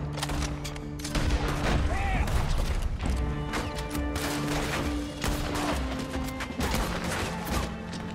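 Rapid, crackling gunshots from Red Dead Redemption 2 fire in a continuous barrage, loud and close, with sharp impacts layered over a steady game soundtrack hum.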